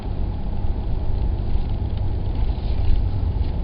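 A 2008 Cadillac XLR-V supercharged car pulls away, its loud, steady engine rumble and road roar continuous and close, heard from inside the cabin without speech.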